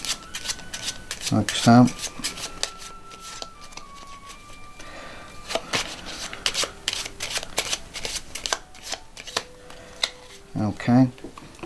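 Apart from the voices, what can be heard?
shuffling playing cards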